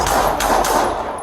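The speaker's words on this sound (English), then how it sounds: "As he advanced toward the officers, gunfire rang out." Gunfire erupts as police confront a man holding a knife on a street, a dense, loud burst of rapid shots blurring together over about a second.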